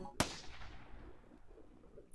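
A single sharp gunshot in the Steins;Gate visual novel, one loud crack followed by a decaying echo that fades over about two seconds.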